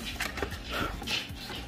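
A dog pants in quick breathy bursts with a faint whimper, close by indoors while a computer mouse is being unboxed.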